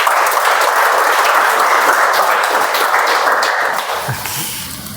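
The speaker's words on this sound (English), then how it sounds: "Can we have a huge round of applause for all of them?" A crowd applauds loudly and steadily for about four seconds, then the clapping thins and fades toward the end.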